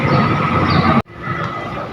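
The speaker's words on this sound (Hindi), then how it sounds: "तो ये मेट्रो स्टेशन है, तो यहाँ पे मेट्रो में बैठ कर जाएंगे।" A metro train rumbles loud and close at a station, a dense steady roar that cuts off abruptly midway and then resumes as quieter rolling rumble, with no talking.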